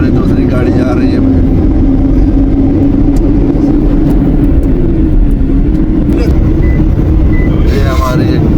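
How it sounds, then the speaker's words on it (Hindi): A vehicle from a pilgrims' convoy on the road from Makkah to Madinah drives past, giving a loud, close, steady engine and road rumble with wind noise throughout. "ये जी हमारी दूसरी गाड़ी जा रही है।"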